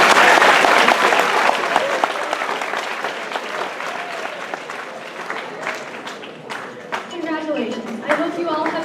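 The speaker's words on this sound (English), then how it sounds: "Give yourselves a round of applause" Students at an evening general session of a science symposium clap for themselves, a loud wash of applause that gradually thins into scattered claps while voices begin chattering underneath.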